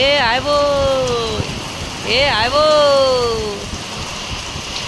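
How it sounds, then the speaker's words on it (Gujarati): The first monsoon rain patters in a steady hiss on a metal sheet roof, running continuously beneath a person speaking drawn-out exclamations over it. "અમારા પતરામાં થોડોક શું અવાજ આવે વરસાદનો"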